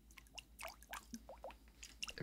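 Dripstone dripping in the video game Minecraft, a quiet series of small separate water drips and plinks at an irregular rhythm, with no talking.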